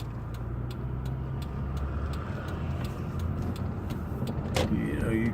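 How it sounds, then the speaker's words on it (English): Steady road traffic rumbles past, a continuous low wash of car engines and tires at moderate distance, with a faint rhythmic ticking throughout and a brief sharper sound near the end. "You can't get more traffic flow than this."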